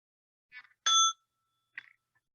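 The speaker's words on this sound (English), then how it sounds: "let's begin with the sound of the bell" A small bell rings to open a meditation: a light tap, then one clear bright ding that fades quickly, followed by a softer chime, with quiet between strikes.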